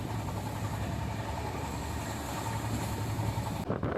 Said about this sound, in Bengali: ট্রেন প্রায় 108 কিলোমিটার গতিবেগে ছুটে চলেছে